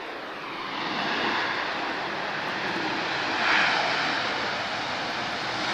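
An EasyJet A320neo in special Neo livery roars at Lisbon Airport, a broad, steady jet engine rush that swells slightly midway and holds loud and close without any voices.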